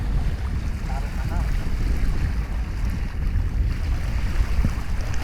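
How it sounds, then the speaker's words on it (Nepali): Sea waves breaking on the shore, a continuous loud wash of surf with heavy wind buffeting the microphone and a low rumbling roar beneath it. "यस्तो पानीको छाल यस्तो मजाले हान्छ नि"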